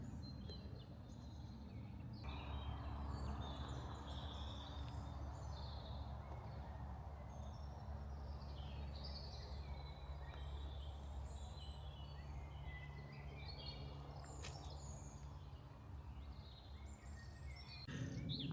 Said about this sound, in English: So get blackbird, robin, blue tit.